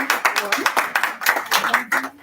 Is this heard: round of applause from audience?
yes